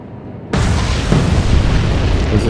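Torpedo explosion striking a ship in the naval video game Atlantic Fleet: a sudden loud broadband boom erupts after a short quiet lead-in and rolls on as a sustained roaring rumble with a second swell midway.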